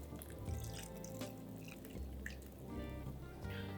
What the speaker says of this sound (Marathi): त्यात पाणी घ्यायचं आहे.